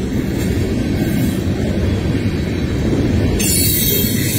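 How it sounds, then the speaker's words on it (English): A freight train of tanker cars rolls past along the Allegheny River near Freeport, a steady loud rumble of wheels on rail that continues without a break, with a bright rise in high squeal near the end. "I don't know how long this train's gonna be, but it's a bunch of tanker cars."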